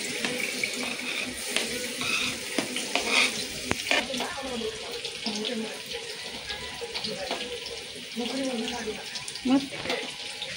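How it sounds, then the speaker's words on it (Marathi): Steady hiss of garlic frying in oil in a kadhai, with occasional stirring scrapes and clinks throughout, fairly close. "आता इथं लसूण तळून घ्यायचं मस्तपैकी"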